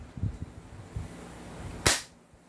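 A single sharp airsoft shotgun shot cracks out loud and close midway through, standing out against quiet low rumbling handling noise before and after.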